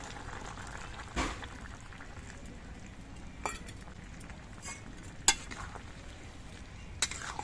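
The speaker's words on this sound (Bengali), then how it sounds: "এবার এই নারকেল বাটা আর দুধ দিয়ে আরও কিছুক্ষণ ফুটিয়ে নিতে হবে" Papaya shukto with coconut paste and milk simmers in a pot, a steady low bubbling broken by a few sharp clicks and light utensil taps, faint and close with no voices.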